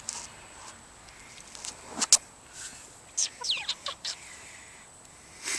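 Bantam chickens cluck in short, scattered bursts, some close and some farther off, over a quiet outdoor background with no talking.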